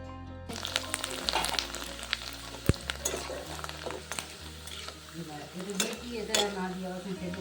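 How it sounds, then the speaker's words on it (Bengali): Papad frying in hot refined oil for a Bengali vegetarian meal: a close sizzle with scraping of a utensil and clinks against the pan, plus a faint low tonal hum in the background. "আমি এখন রিফাইন্ড অয়েল গরম করে নিয়েছি আর পাঁপড় ভাজা ভাজতে শুরু করেছি"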